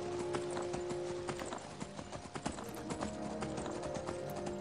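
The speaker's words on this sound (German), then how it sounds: "Also immer wenn wir auf dieses Pferd aufsteigen, kriegen wir noch mehr Kopfgeld." Horse hooves clip-clop steadily in Skyrim on PS3 as a stolen horse is ridden, a continuous rhythmic trot layered over game music and ambient sound, fairly loud and with no talk.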